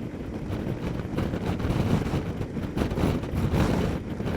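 Strong gusty wind buffeting a KTM 1290 Adventure S motorcycle at riding speed, a steady loud roaring rush with surging gusts and no talk.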